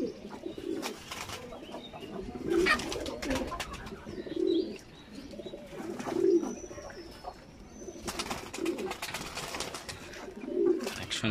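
Pigeons coo in repeated low bursts while being bathed, each call rising clearly over a busy background of splashing and rustling, with a faint high whistle partway through.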